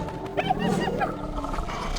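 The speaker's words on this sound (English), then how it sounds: "A lion roar suddenly echoes out." A lion's roar from an animated film, a loud drawn-out bellow over a busy soundtrack with music and effects, filling the whole stretch.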